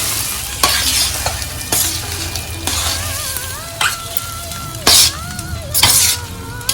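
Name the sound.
stirring tempering into cooked rice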